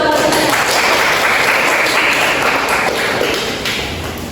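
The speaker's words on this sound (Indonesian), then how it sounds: "Beri tepuk tangan dong." Students in a classroom clap for classmates called to the front, a dense, close burst of applause that holds steady for about four seconds and then fades slightly.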